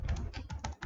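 Rapid keystrokes on a computer keyboard while writing C code in Visual Studio, a steady close clatter of clicks with a brief pause near the end.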